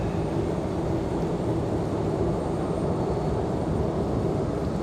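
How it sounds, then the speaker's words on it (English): A Southwest airliner taxiing at Raleigh Durham International airport makes a steady, dense engine rumble and hum at close range, unbroken and even for a few seconds with no talk. "We've got a Southwest that's come down the hill from Terminal 1 side."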